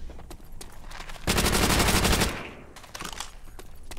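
Rapid automatic gunfire from a Thompson and a PPSh submachine gun in World at War, a loud sustained burst in the middle framed by shorter bursts and single shots before and after.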